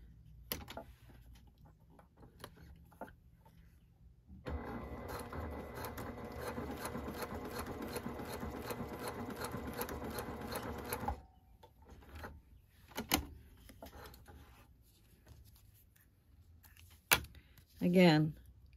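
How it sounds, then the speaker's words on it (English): Brother PQ1500SL sewing machine stitching through two layers of marine-grade vinyl, a fast steady mechanical chatter running for several seconds between quieter clicks and handling noises, close up. "Now let's do some vinyl. And this is marine grade vinyl. I'll do two layers of that."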